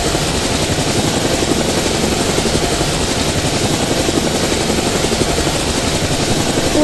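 A helicopter flies in the GameGuru Max video game, its rotor and engine a steady, loud, unbroken drone that stays constant throughout with no talk.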